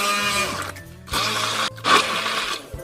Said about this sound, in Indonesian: Ini di blender sampai halus.